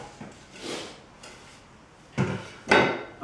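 A wooden shave horse being unclamped and reclamped on a workpiece: a few dull wooden knocks and sliding thumps, irregularly spaced, close by, with two louder clunks toward the end.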